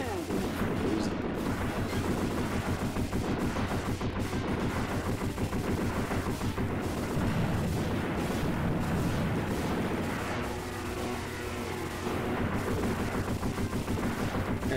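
Rapid gunfire from the arcade shooter Smash TV on Xbox 360, a dense, continuous barrage of loud game shots layered over busy game sound effects for the whole stretch, with no pauses.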